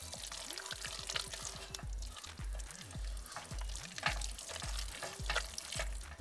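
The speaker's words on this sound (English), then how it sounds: "we're gonna stir those in this beautiful dip." Spoon stirring artichoke hearts into a hot, thick dip, with soft scraping and wet clicking strokes repeating through, close and fairly quiet, alone without voices.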